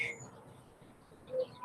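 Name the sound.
birds chirping outdoors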